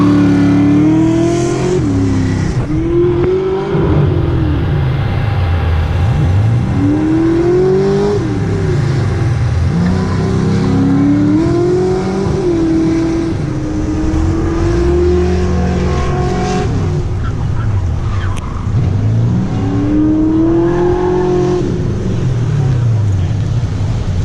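Muscle car engine revving hard during a passenger ride, loud and close, with repeated rising and falling revs from the cabin and people talking over the roar throughout.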